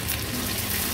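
A large chopped onion hits hot oil in a kadhai for tempering, giving a short, steady, loud hiss of frying with no voices.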